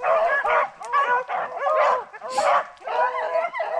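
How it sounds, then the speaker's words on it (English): A rabbit hunting dog bays repeatedly while running a rabbit through thick, rough brush, its yips and barks coming in quick bursts at moderate distance. "First one of the day, dog's running hard here."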